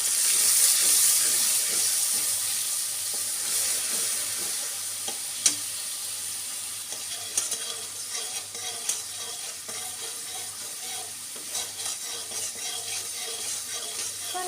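Turmeric and chili paste sizzles in hot oil while an ilish fish curry is cooked, a continuous close crackle with intermittent spatula scrapes and a sharp clack partway through, no voices.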